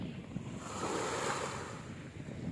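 Ocean waves surge against a damaged seawall in rainy weather, a steady rushing wash with wind noise, moderately close and with no talk.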